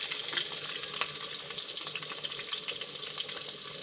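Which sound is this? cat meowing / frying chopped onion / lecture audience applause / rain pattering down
frying chopped onion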